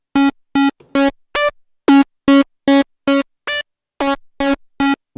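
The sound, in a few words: bit crusher audio effect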